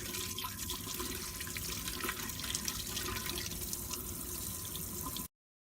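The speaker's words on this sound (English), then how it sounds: "After soaking, rinse under clean running water to clear away residue and dirt." Lemons rinsed under clean running tap water, a continuous close hiss of flowing water with small drips and splashes, then an abrupt cutoff to silence near the end.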